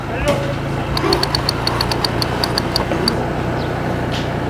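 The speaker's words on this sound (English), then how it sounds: "now we got the forklift, the Toyota forklift, mate, out on the roads" A Toyota forklift engine chugs steadily on a village road in Thailand, a low, close, continuous mechanical rumble with a regular ticking knock and light background activity.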